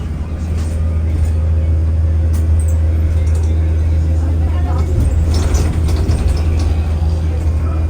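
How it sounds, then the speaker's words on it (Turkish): Road traffic in the KLCC area of Kuala Lumpur, with cars and buses giving a loud, continuous engine rumble close by, a few sharper hissing bursts, and voices under the din. "KLCC bölgesinde bu trafik hep var."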